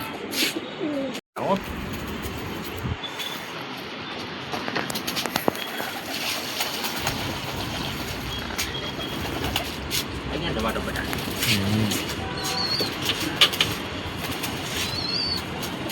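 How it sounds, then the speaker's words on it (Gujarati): White pigeons coo and flutter their wings close by, with occasional wing flaps over steady outdoor background noise and a person talking. "અહીંયા અમારા ઓલા હરીશ માસા નહીં એ કબૂતર રાખે તમને બતાવું વ્હાઈટ વ્હાઈટ કબૂતર"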